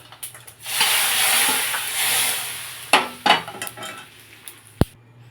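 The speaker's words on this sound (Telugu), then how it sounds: "తాలింపు వేసేస్తున్నాను." Tempering spices hit hot oil for a cauliflower fry and dal rasam meal, giving a loud steady sizzle and hiss for about two seconds, then quieter pan clatter and a sharp utensil knock near the end.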